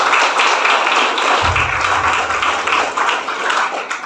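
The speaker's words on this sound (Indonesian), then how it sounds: "Tepuk tangan." Loud, dense applause from an audience at a religious organization's event in a pesantren, continuous clapping with a brief low thump partway through.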